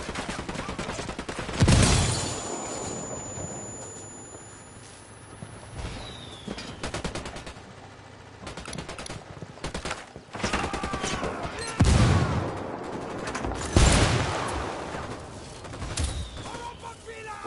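Automatic rifle fire erupts in Ghost Recon Wildlands, with repeated loud bursts and heavy volleys separated by quieter gaps over a rumbling battle backdrop.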